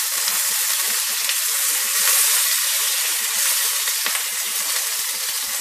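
Curry leaves sizzle and spit in hot oil for a dal with spinach and tomatoes, a loud, close crackle and hiss with scattered sharp pops throughout and no voices.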